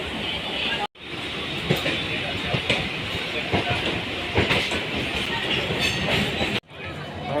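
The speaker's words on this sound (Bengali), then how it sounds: "আমরা এখন লোকাল ট্রেনে করে হাওড়া যাচ্ছি।" A local train bound for Howrah rolls along with a loud, steady rumble and rhythmic wheel clatter heard from on board, broken by two brief sharp cuts in the sound.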